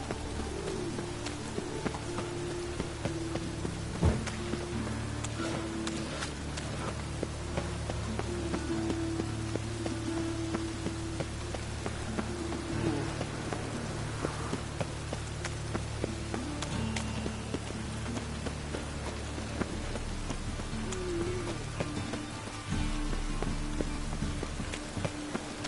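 Steady rain falls in a fantasy village in The Witcher, a continuous hiss with pattering drops, low ambient rumble and occasional cooing birds throughout.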